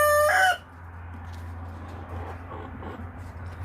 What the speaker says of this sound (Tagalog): Ang galing ng mga manok, Ang daming itlog, Ang daming itlog.